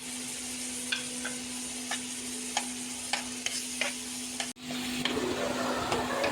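Chopped onion and green chilli frying in a pan with oil, a steady sizzle under a low hum, broken by short scraping clicks of a spatula as the mixture is stirred.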